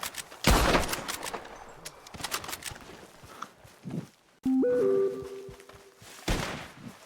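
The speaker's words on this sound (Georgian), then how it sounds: "შეწყვიტეთ სროლა შეწყვიტეთ." Gunfire in the Western video game RedM comes as a burst of loud sharp shots early on, then scattered clicks and thumps, with a brief tonal game sound near the end.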